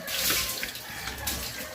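Water pours and splashes steadily, a continuous close rushing sound with no voices.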